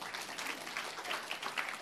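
Steady applause from a worship congregation at a church service, a moderate, continuous patter of many hands clapping with no pauses.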